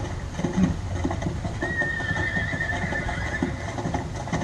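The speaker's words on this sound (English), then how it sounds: "A carriage with 4 horses had drawn up beside us." In a Dracula radio play sound effect, horses of a four-horse carriage whinny in a long, rising neigh. The neigh sits over a dense, steady bed of rumbling hooves and carriage noise with no talk.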